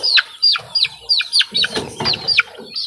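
A young white chick makes a rapid string of high, downward-sliding peeps, close and fairly loud, with softer low clucking from other chickens underneath.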